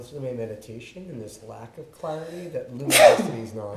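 A single sharp sneeze bursts out near the end of a calm spoken passage during a Buddhist meditation center live stream, loud and close over the talking voice.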